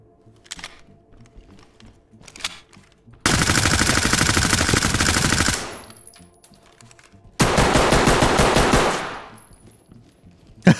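Sustained automatic gunfire in the tactical shooter game Ready or Not, two long loud bursts of rapid fire lasting a couple of seconds each, separated by quieter gaps with scattered clicks and faint background sounds.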